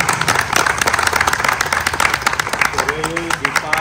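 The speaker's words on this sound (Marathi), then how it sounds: "जोरदार टाळ्या होत्या." Applause at a housing society flag-hoisting ceremony for the 78th Independence Day, a dense burst of many hands clapping steadily, fairly loud, with a voice speaking over it near the end.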